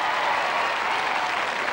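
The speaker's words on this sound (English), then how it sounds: "A round of applause for the 14s." Applause from a crowd at a televised royal charity knockout tournament, a steady even wash of clapping filling the short stretch without a break, no voices over it.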